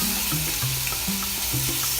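Chicken browning in a pan, a close, steady sizzle with a few soft clinks and shifts over two seconds, alone with no voices.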